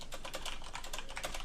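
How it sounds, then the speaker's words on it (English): Rapid keystrokes on a computer keyboard, a steady run of close, crisp clicks filling the short moment with no talk over them. "I'm typing."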